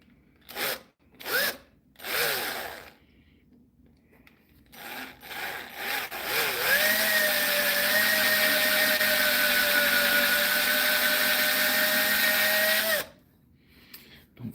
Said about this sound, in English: put that part right there straight out and drill in from the side